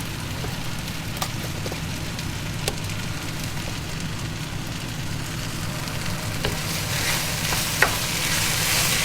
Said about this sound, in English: and then fry it